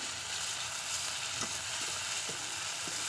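Onions that are nearly melted sizzle in oil in a pan, giving a steady hiss with a few soft clicks from stirring.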